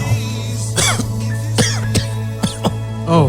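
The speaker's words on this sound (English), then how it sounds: "No coughing, please." Someone in a hot, crowded room gives several short, sharp coughs and throat-clearing bursts over a steady low hum and background murmur.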